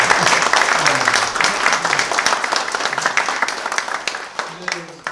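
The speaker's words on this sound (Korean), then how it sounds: "큰 박수 한번 주시기 바랍니다" Enthusiastic applause from an audience at a policy forum on the animation industry, loud sustained clapping filling the room, with a speaking voice running underneath it.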